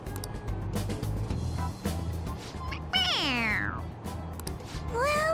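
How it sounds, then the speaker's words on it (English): Squeaky electronic meow from a toy cat set off by pressing its head, two rising-falling cries standing out over a steady low hum and background noise. "It meows when you press on its head."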